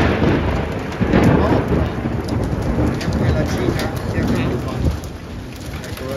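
A violent hailstorm at Gran Sasso in Italy, with deep rolling thunder over a constant loud clatter of hail and rain on surfaces, and someone talking now and then through the storm.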